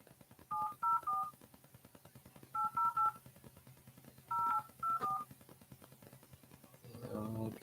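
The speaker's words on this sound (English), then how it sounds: "If I can dial the number right." A phone number is dialed for a real estate cold call, as three quick bursts of DTMF keypad beeps with pauses between them, fairly faint against a steady background hum, followed by a brief bit of muffled noise.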